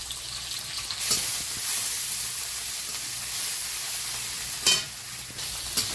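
Chopped onion, garlic, ginger and green chili sizzle lightly in a pan, making a steady hiss with a couple of sharper stirring scrapes, moderately close and without talk.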